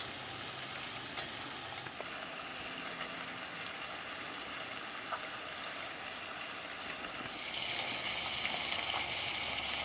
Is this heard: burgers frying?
yes